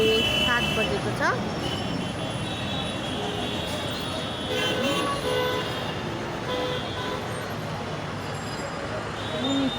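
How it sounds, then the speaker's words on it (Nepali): Road traffic moving at 7 pm through a busy Kolkata market near a railway station: a dense, steady roar of engines and honking horns with crowd noise and people talking throughout. "गाडी यसरी कुद्छ। गाडीको लाइन हेर्नुहोस् न"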